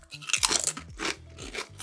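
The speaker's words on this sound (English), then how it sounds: "Oh, this is so much crunchier than those way crunchy ones." Wavy black truffle potato crisps crunch loudly and close up, a run of sharp crackling bites and chewing over about two seconds, with no talking.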